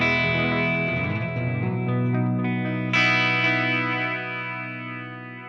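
An electric guitar played through a Walrus Audio Mako D1 modulation pedal rings out in shimmering, wavering chords: an opening strum, a second bright strum midway, then a long, slowly fading sustain with no talking.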